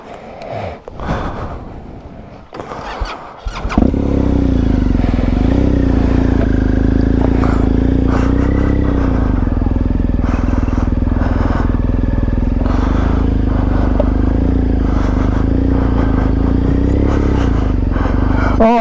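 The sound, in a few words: BMW motorcycle starting and riding through the woods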